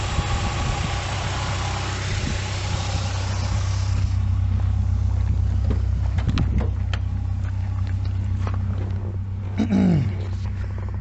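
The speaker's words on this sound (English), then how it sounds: "So all loads on, engine at 2000 RPM." A car engine with a failing alternator runs steadily at 2000 RPM with all electrical loads on, a constant low hum with some clattering mechanical noise over it.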